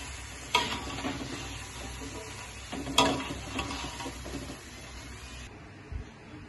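Potato pieces sizzle in hot oil with a steady crackling hiss, punctuated by a few sharp utensil clinks against the pan, close and moderately quiet with no talking.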